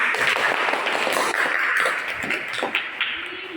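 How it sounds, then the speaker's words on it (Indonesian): A class of students applauds during a biology lesson on biodiversity at Universitas Labuhan Batu, a dense, steady patter of clapping filling the room for a few seconds before tapering off. "oke, tepuk tangan"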